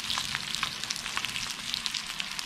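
A pan-size spearfished fish sizzles on a BBQ grill plate, a steady dense crackle with frequent small pops, close and even throughout, with no talking.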